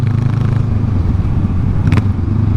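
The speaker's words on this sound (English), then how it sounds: "The downshift sounds nice." Honda Rebel 500 motorcycle with its muffler removed, engine note loud and steady close by, with a brief burst of higher sound near the end as it downshifts.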